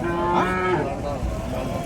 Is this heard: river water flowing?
no